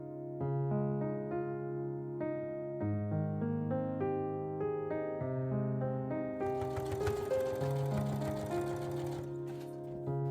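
A sewing machine stitching around the waistline of a pleated skirt, a close, steady motor hum whose pitch shifts in steps, joined by a brighter rattling whir toward the end.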